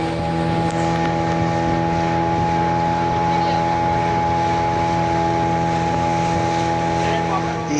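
A motorboat carries riders across the water at Kodi beach in Kundapura, its engine droning steadily and loudly with constant wind and spray noise throughout.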